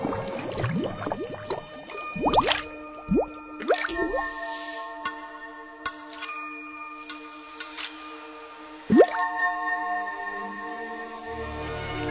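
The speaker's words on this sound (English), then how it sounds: "bubbles of oxygen make the river water fizz like champagne" Animated oxygen bubbles rise through river water, heard as clear, bright dripping plinks and bubbly pops, some in quick clusters and others spaced apart, up close against a quiet background.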